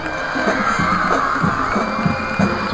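A home crowd cheers at a high school football game between the Glenn Grizzlies and McCallum Knights, a continuous roar of cheering with scattered shouts and whoops from many voices, loud and sustained throughout.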